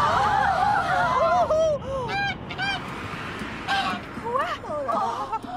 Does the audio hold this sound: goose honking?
yes